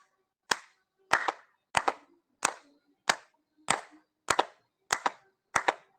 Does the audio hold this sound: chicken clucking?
no